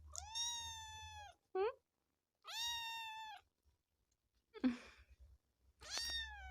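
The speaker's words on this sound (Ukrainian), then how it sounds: "Мяука." A cat gives four or five drawn-out meows at close range in a quiet home, with short gaps between the cries and a faint low hum underneath.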